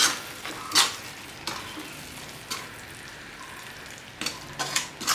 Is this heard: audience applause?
no